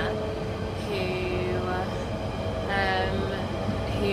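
Inside a moving train carriage, a steady rolling rumble fills the space, with rising and falling tonal whines from the motors drifting over it.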